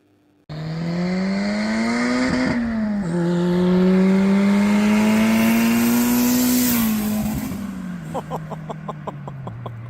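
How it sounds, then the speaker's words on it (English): A B20 VTEC big turbo Honda Civic EG hatchback passes by loudly, its engine note rising and holding through a long revving pull before fading, followed by brief clicking or popping sounds. "This is the first time witnessing a flyby. The B20 VTEC big turbo Civic EG hatch."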